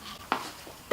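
A spoon stirs black bean dip in a bowl, giving two short scraping knocks against the side over quiet room tone, with no talk.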